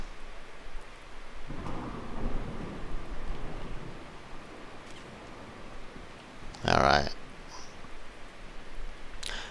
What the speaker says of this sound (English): the rain on the ground. So that's another effect that might adjust your FPS a little bit.